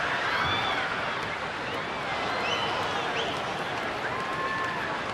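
Stadium crowd noise from a baseball game between the Angels and Rangers in Texas, a steady broad roar of cheering fans with scattered shouts and whistles filling the whole moment, no single voice standing out.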